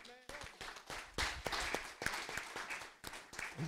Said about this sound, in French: Je vais vous demander aussi d'applaudir pour ça